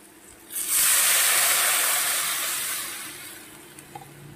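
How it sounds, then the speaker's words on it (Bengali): Water poured into a hot pan of fish curry with small fish and greens sets off a sudden loud hiss that holds for about two seconds, then slowly dies away to a faint simmer. "আর এই পর্যায়ে আমি দিয়ে দেব জল।"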